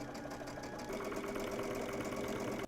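A domestic sewing machine runs a steady seam toward a side seam, its even mechanical whir and rapid needle tapping continuing near and alone before stopping abruptly.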